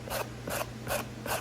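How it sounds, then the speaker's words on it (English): A rasp scratches up a leather shoe sole in four quick rhythmic strokes, each a bright rough scrape, close and clear with nobody talking. "I take my rasp. I think that's what this is called, I don't really know, but it scratches up the sole"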